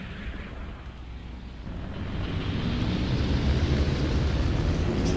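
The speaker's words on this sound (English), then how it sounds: "Let's start up our engines." Aircraft engines start up in the flight combat game European Air War. A low, rumbling roar builds gradually and then settles into a steady, heavy drone without any voices.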